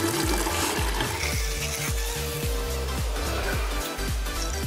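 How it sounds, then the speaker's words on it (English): Seawater poured from one clear container into another, steady gurgling and splashing of liquid throughout, close and continuous with no voices. "I'm gonna transfer this into another clear container so we have pure salt water"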